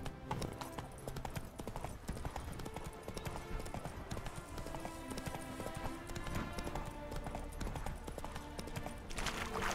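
Horse hooves galloping as Roach is ridden in The Witcher 3: Wild Hunt, a rapid continuous clip-clop rhythm held at a steady, moderately close level throughout.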